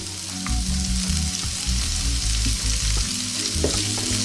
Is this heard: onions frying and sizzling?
yes